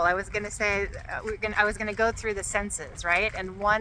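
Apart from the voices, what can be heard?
No everyday noises stand out.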